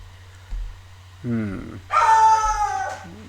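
Dogs barking and howling in the background, with a couple of harmonic howling yelps rising under and after a voice speaking.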